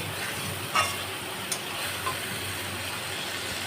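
Spice paste for mutton curry fries in oil with a continuous soft sizzle and hiss, broken by a few brief scraping clicks of a spoon, close and quiet with no talking.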